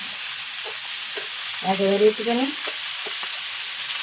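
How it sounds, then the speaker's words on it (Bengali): Bori lentil dumplings frying in a pan of oil, a constant bright hiss and sizzle that stays steady throughout, with a few brief soft words spoken partway through. "অন্য কড়াই আমি বড়ি ভেজে দিচ্ছি"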